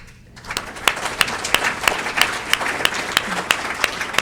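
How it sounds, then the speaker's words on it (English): An audience at a community discussion panel breaks into sustained applause, dense clapping with sharp individual claps standing out, rising after a brief quiet start and staying steady, with some voices mixed in. "Well, give yourselves a hand clap."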